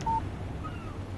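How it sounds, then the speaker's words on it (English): A phone text-message alert in the Alan Wake video game, a single short electronic beep at the start followed by quiet game ambience with a faint low hum. "Text message from Barry."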